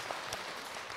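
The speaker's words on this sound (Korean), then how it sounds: "박수." An audience claps at a talk by a Buddhist monk, a short burst of dense, even applause at a low level with no speech over it.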